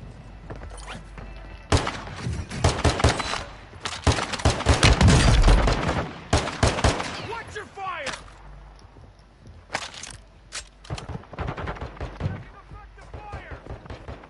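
Bursts of gunfire in the battle royale game Warzone 2 on the Ashika Island map, with dense rapid volleys and single loud shots clustered in the middle and scattered pops later, mixed with player voices talking over them.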